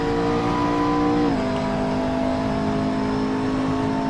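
A race car engine in Assetto Corsa drones loud and close at steady high revs around Eau Rouge, then drops slightly in pitch as it settles into a sustained roar.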